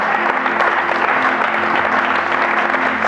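A church congregation applauds loudly and continuously, dense clapping from many hands filling the room throughout.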